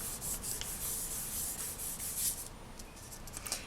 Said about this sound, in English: I'm just going to give that a burnish so that it's nice and flat